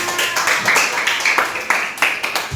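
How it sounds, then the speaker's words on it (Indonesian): Students in a classroom clap for a group, a quick, fairly close run of claps in a loose rhythm, with voices mixed in. "Tepuk tangan untuk kelompok 5."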